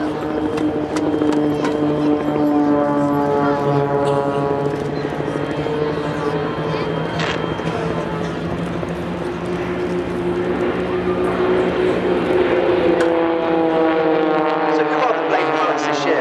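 Aerobatic aircraft from the Blades team flying a Spitfire Roll at the Farnborough airshow 2010, a loud continuous engine drone with slowly shifting pitch as the plane rolls overhead, a voice commenting over it.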